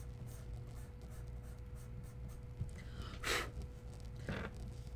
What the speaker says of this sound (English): The only thing I don't like about charcoal is the sound it makes on the paper.